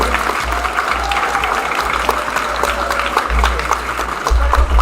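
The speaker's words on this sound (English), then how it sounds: "Both of the fighters deserve an extra round of applause" An audience at a longsword fencing tournament final applauds the two fighters, a sustained dense clapping that carries through the whole stretch and swells slightly toward the end, with a voice talking over it at times.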